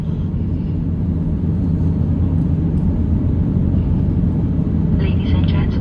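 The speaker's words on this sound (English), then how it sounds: "Cabin crew takeoff stations." Cabin rumble of a Singapore Airlines Airbus A350-900 departing Manila, a loud, steady engine roar filling the cabin throughout with little variation.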